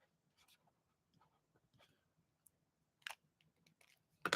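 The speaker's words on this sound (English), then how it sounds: "I got autograph cards to sign." Gold pen signing a stack of autograph cards, faint scratchy pen strokes and soft paper clicks, sparse and close, with a louder shuffle of cards at the end.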